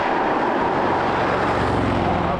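Loud, steady roar of tyre and road noise from the wheel arches of a Mercedes-AMG SL at speed, a broad continuous rush heard from inside the cabin with no talk.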